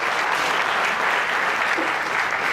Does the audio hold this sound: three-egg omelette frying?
no